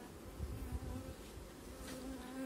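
Calm honey bees buzz steadily at an opened hive after the acacia bloom, a dense, close, continuous drone from many insects with no talk.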